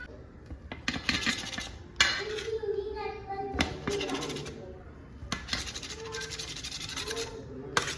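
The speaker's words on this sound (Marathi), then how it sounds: "तर मी सगळं तुकडं करून घेते" A knife clacks sharply and repeatedly against a board as steamed alu vadi is cut into pieces in a home kitchen, with irregular chopping knocks and rubbing close by.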